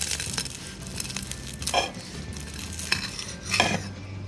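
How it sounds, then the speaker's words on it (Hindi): Crisp crunching and crackling of a fried BBQ qeema samosa roll being cut, with a few sharp bursts of crunch rising above faint scraping sounds. "एक मैं आपको कट करके दिखाती हूँ, क्रिस्पी देखें, आवाज़ सुने आप इसकी"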